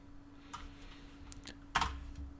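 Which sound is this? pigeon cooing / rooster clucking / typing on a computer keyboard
typing on a computer keyboard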